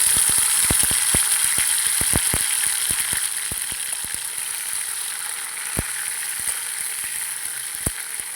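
Mutton fat fries in hot oil, a steady loud hiss peppered with sharp, irregular crackles and pops throughout, with no voices.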